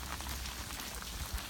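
Steady rain falls outdoors where a Great Dane is swimming, a dense continuous hiss of drops on water and surfaces with no talk, fairly quiet throughout.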